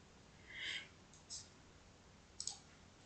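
Faint computer mouse clicks in a quiet room, a soft double click followed by a couple of sharper single clicks, with no talking.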